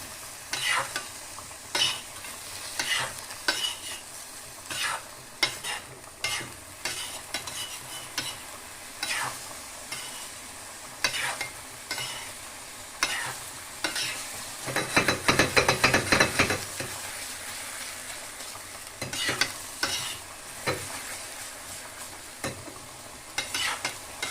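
Chicken sukka made with katawa masala frying in a pan at home, with repeated scraping stirs of a spatula over a steady sizzle and one longer, louder burst of sizzling partway through, no voices.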